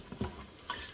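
Onions sautéing in a pot for Mississippi pot roast give a brief faint sizzle with two quick stirring scrapes, close and quiet with no talking.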